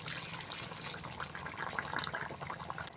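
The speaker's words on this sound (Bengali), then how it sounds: "এখন দিয়ে দিচ্ছি জল।" Water is poured into a pot of bottle gourd and fish curry, giving a soft, steady splashing stream with faint bubbling throughout.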